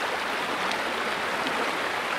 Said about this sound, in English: Little waterfall here.